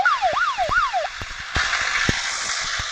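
A wailing siren in the zombie video game Withstandz sweeps up and down in repeated cycles, then cuts to a steadier tone over a background of sharp thuds and knocks.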